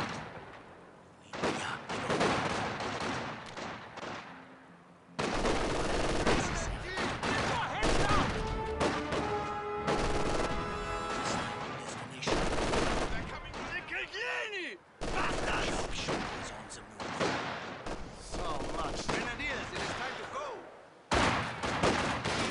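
Gunfire and machine guns in the Company of Heroes 2 video game, Ardennes Assault, crackle in loud, sustained fusillades with rapid bursts and brief gaps, while voices shout over the battle.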